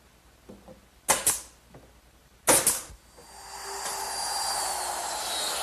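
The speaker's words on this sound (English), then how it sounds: "now a piece of 1/4-inch maple plywood, which I'll attach with my brad tacker" A brad tacker fires into 1/4-inch maple plywood in a woodworking shop, two sharp pairs of loud snapping pops, followed by a rising steady hiss of air.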